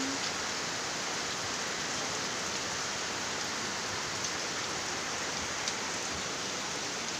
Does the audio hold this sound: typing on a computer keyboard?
no